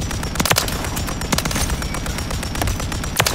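Rapid automatic gunfire crackles in Call of Duty: Modern Warfare III on the Rust map, with loud bursts of close shots over a constant noisy backdrop.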